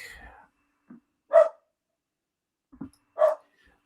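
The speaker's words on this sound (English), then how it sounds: "And please excuse my two dogs barking." Two dogs bark indoors somewhere in the house, a couple of short muffled barks spaced apart with quiet gaps between them, heard at a moderate distance.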